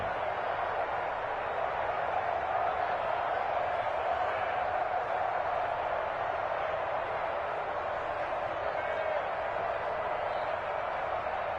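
Crowd in a PS4 American football video game building toward a big third down: a steady, even stadium roar holds at moderate volume, dense and unbroken throughout.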